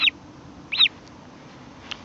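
An orphaned American oystercatcher chick gives two sharp, high peeping calls close by, with a fainter third call near the end, over a quiet low rumble.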